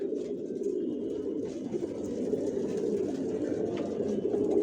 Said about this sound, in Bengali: কোয়ালিটি সম্পন্ন কবুতর, অরিজিনাল রেসার।